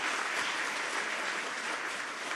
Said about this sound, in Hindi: अगर इसको हम अपने तालियों से प्रकट करें तो मुझे लगता है कि ये पूरा हाल गूंजना चाहिए उससे।